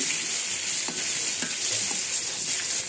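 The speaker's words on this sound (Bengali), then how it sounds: "এই জন্য আলুগুলো ভেজে নিচ্ছি" Potatoes fry in hot oil in a pan, making a dense, loud, continuous hissing sizzle up close with a few faint stirring clicks, and no one talking.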